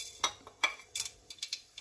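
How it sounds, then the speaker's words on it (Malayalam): Mustard seeds spluttering in two spoons of hot coconut oil in a pan, heard as a handful of sharp, scattered pops and crackles close by, irregular and fairly quiet, with no talk. "കടുക് പൊട്ടി വരുന്നുണ്ട്."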